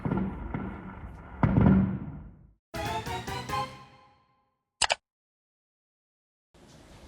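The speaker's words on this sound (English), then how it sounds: "fireworks lit up the sky" Fireworks explode over a night sky in Yunnan province, China, with loud booming bursts and crackling tails separated by short silences, the last blast brief and sharp.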